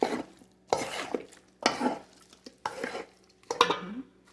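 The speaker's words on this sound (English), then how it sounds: "Mix that up." Chicken curry is stirred in a pot, heard as several close scraping, sloshing strokes separated by short pauses, with a faint sizzle underneath.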